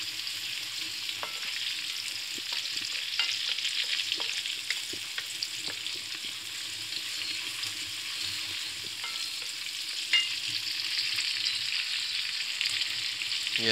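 Masala frying and being stirred for Afghani-style daal mash, a steady close sizzle with intermittent light scraping taps of the spoon against the pan.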